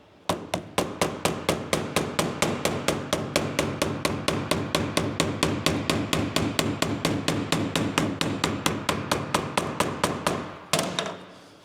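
Steady, rapid hammer blows strike reinforced gasket material being cut while working on a 1944 Cleveland generator, about four sharp knocks per second, close and loud, ending in a brief scrape.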